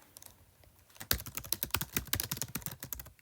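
Typing on an iPad's keyboard: a few sparse taps, then a fast, steady run of close, crisp key clicks.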